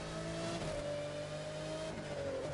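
Race car engine in The Crew 2 held at a steady, loud drone with harmonic whine, pitch shifting slightly as the car slows under braking after a nitrous burst, with no talk.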